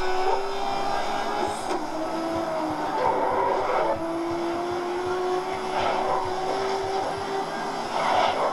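A race car engine in the GRID video game drones loudly and steadily, its pitch rising and falling as the throttle is worked, with tyre and road noise underneath.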